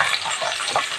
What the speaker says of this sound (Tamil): இப்போ வெங்காயத்தை போட்டுடலாம். வெங்காயம் நல்லா வதங்கட்டும்.